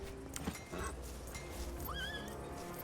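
A horse whinnies in the Roman-era game Expeditions: Rome, with a rising, wavering neigh near the end over a low ambient bed, plus a few faint hoof clops earlier.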